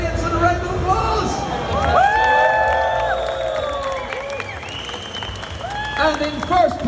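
Crowd applause and some cheering for a prize winner at the Big London Tattoo Show at ExCeL London, mixed with hall babble, background music and a voice speaking over it.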